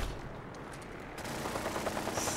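Gunfire aimed at the player in the video game Fallout 4, a fast rattling burst of automatic shots over loud, noisy game ambience.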